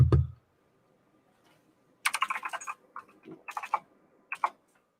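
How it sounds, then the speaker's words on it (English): Typing on a computer keyboard during a late-night live stream, in a few quick bursts of close, crisp key clicks separated by short pauses, after a single low thump at the start. "I'm typing back to him."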